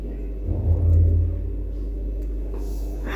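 A motorbike rides along a road in Hatirjheel, its engine giving a steady low rumble with a brief swell of revving early on, wind and road noise mixed in.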